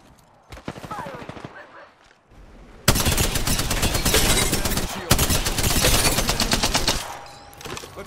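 Rapid automatic gunfire from an Apex Legends firefight, loud and sustained in dense bursts with brief pauses, sometimes under a voice.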